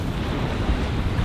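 Steady wind buffeting the microphone with a low rumble of surf on a beach, loud and close, with no talk.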